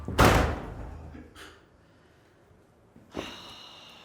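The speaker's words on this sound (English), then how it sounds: "Shut the door." A door is shut with a sharp, loud slam at the start, followed by quieter shuffling and a faint breath, then another sharp knock-like bang near the end.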